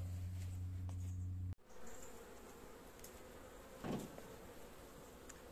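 Bees buzzing at an apiary hive that has requeened, a faint, steady hum close by after a brief mechanical drone cuts off, with one bee passing louder near the microphone.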